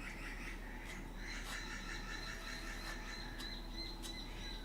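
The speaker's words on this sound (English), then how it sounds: "Or not my birds, the birds that are in the background? It's amazing how loud they are." Outdoor birds sing in the background: several repeated chirps and tweets drift faintly and at a distance over a steady hiss, with no one talking.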